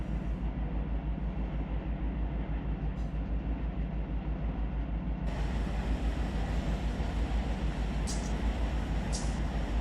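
An SD70 locomotive lashed up with several units rumbles steadily in the Run 8 train simulator game, a dense, continuous low engine drone with a faint high click or two.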